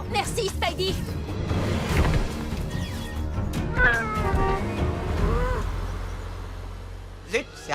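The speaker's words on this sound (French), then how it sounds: "rattrape ce chat" A cartoon cat meows and yowls amid bustling French-language children's animation dialogue, with scattered crashes and scrambling effects under the voices.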